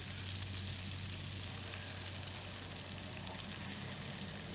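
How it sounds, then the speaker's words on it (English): Steady, dense sizzling and crackling of smelts frying in hot oil in a pan, loud and continuous throughout. "whoa, that was a big sizzle"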